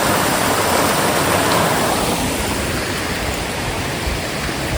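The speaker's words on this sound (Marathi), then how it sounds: "या साईडून पाणी येतंय." Steady rushing water flows near the main gate of a farmhouse agritourism centre, a loud, continuous broadband wash like a stream or outlet, unchanging throughout with no talk.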